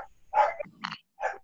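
A dog barks a few short, muffled times at a distance, heard faintly over an online class connection.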